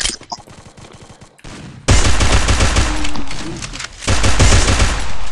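In Counter-Strike, loud automatic gunfire rattles in dense bursts, first quieter and distant, then close and heavy, with a short lull before another intense volley.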